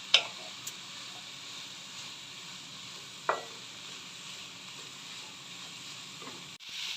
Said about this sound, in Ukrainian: протушую до того стану, щоб лишня волога вийшла і капустка була до напівготовності